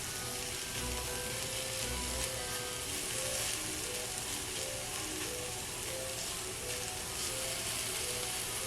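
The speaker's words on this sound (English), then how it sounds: "can you see how the apples are cooking down?" Sliced apples frying on a Dash mini griddle give off a constant, close, even sizzle with a fine crackle, holding steady throughout without any talking.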